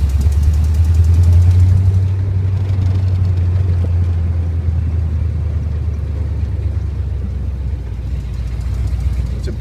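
A 1972 Jeep CJ5 Renegade with a 304 V8, carburetor and three-speed gearbox drives along, giving a loud, steady low engine rumble that holds nearly level throughout, with no voices.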